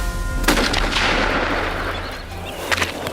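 Gunshots fired to scare off crop-raiding baboons on farmland in the Arabian Peninsula: one loud sharp crack early on, then a fainter second report near the end, with a rumbling echoing tail outdoors.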